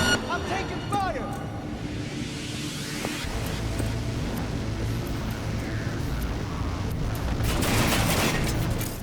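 Gunfire in the video game Cyberpunk 2077: dense, noisy bursts of shots and crackling impacts fill the clip, loudest near the end, over a steady rumbling game background.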